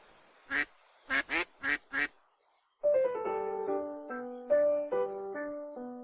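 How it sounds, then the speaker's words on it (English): Four quick cartoonish duck quacks from a duck-dating video game, close and clear, followed by a bright synthesized musical jingle that plays on after the quacking stops. "Is she being swarmed by ducks?"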